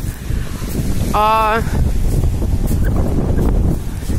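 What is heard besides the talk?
strong wind blowing into the microphone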